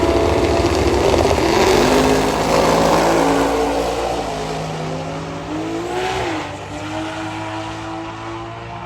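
A Barra-powered Falcon drag car at a race track roars loudly as its engine revs, with the pitch sweeping up and down through gear changes before fading somewhat as it pulls away, and no voices.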